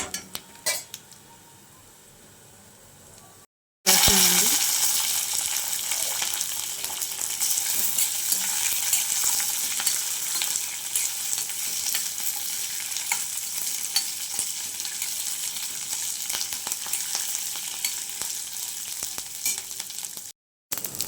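Coriander seeds and green chilies fry in a pan with a loud, steady sizzle and crackle, plus occasional clinks of a stirring utensil, after a few quiet seconds at the start.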